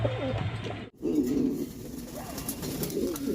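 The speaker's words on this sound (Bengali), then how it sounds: "আপনারা দেখতে পাচ্ছেন এক পেয়ার আইসবার্ড ধামাচিন কবুতর টপ ক্লাস কোয়ালিটি" A pair of Ice bird Dhamachin pigeons at a pigeon market in Bangladesh cooing close by in repeated soft, throaty rolls, interrupted by a brief gap before cooing resumes.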